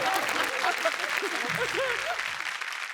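A studio audience at a Marathi comedy show bursts into steady, close applause that lasts the whole moment, with voices talking over the clapping.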